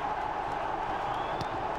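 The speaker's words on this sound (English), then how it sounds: "Paul Lambert applauds, so do the supporters" Dense, continuous roar of football supporters in a stadium crowd applauding a Norwich City goal against Colchester, a broad wash of clapping and cheering heard at a distance with no distinct individual claps.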